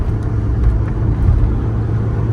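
A Tofaş Şahin 1.6 car engine hums steadily from inside the cabin while driving, a continuous low drone with no talk over it.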